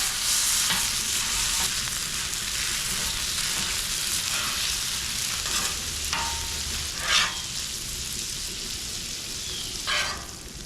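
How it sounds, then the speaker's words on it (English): A pound of Jimmy Dean breakfast sausage fries on a hot griddle in steady, loud sizzle, with a few sharper scraping and stirring accents breaking through the continuous crackle. "we're gonna go down with a pound of Jimmy Dean breakfast sausage"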